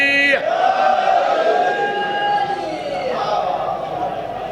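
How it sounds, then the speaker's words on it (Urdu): A large crowd at a Shia religious gathering with a zakir chants the slogan Haidari in unison, a loud, sustained roar of many voices that holds steady and then swells again near the end. "نعرے دا لطف نہیں آیا طاقت نال حیدری"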